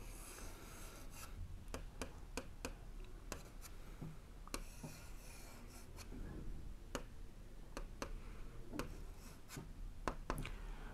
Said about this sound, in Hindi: आइए अब हम लिखते हैं तकदीर